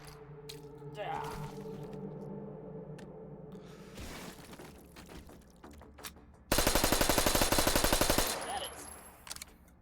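Gunfire from firearms in the VR shooting game H3VR, with scattered shots and then a loud, rapid burst of automatic fire lasting a couple of seconds, under a short spoken remark.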